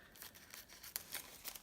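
Scissors snip through paper die-cut shapes and word strips from a scrapbooking kit, a handful of quiet, close, irregular cuts with faint rustling of paper in between.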